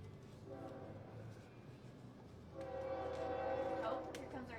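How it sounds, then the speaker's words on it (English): A train rolls by with a low rumble as its horn blares in sustained tones, loudest toward the end, heard at some distance under faint speech. "here comes our train"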